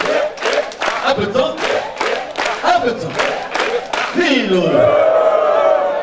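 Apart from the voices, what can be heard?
crowd applause and clapping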